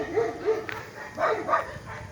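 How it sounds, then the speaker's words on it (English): A dog barks a few times at moderate distance in a suburban street, short yapping bursts spaced across a couple of seconds over faint outdoor background. "Dog's coming."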